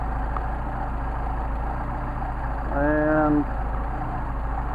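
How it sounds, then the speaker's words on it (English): A Mercedes 190SL with Solex carburetors idles at a steady, even rumble close by, and someone speaks briefly over the engine near the end. "now we've got an increased idle"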